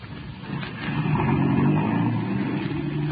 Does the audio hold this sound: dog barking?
no